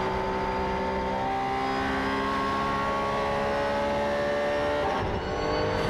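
An AF Corse race car at the Sepang Asian Le Mans Series race screams past at high speed, its engine note a steady high drone over the onboard engine hum, with a sharp rush as it passes.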